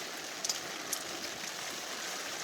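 Rain falls at a campsite on a stormy day, a steady soft hiss with a few sharper drips standing out early on.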